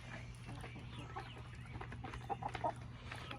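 Backyard chickens cluck softly at feeding time, a few faint, short clucks that rise over a quiet low hum.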